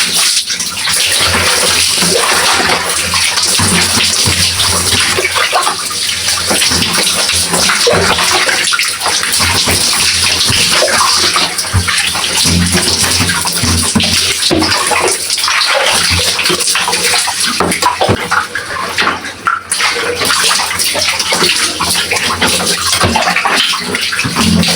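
Clothes being rinsed in a bucket of water, a loud, continuous close-up rush and splashing of water that keeps going for the whole stretch with only brief dips, no talking.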